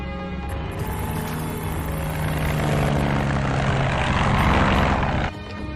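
A propeller airplane engine drones loudly and steadily for several seconds, close by and filling the scene, then drops off sharply near the end; no voices are heard over it.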